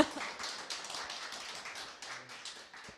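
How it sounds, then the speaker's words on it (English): Scattered applause from a small audience at a TED Club talks event, a patter of claps at moderate distance, fairly soft and steady for a few seconds. "You're welcome to applause."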